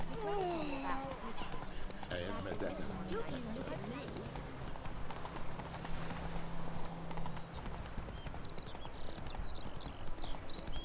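A horse's hooves clip-clop steadily in The Witcher video game, a regular trotting rhythm at moderate volume running under continuous talk from a player.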